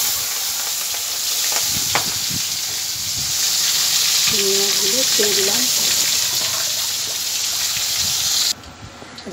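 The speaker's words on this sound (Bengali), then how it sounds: "এবার মাছগুলো ভেজে নিই।" Prawns fry in a wok on a gas stove, giving a loud, steady sizzling hiss that runs throughout with brief spatters and stirring scrapes. A voice is faintly audible in the background.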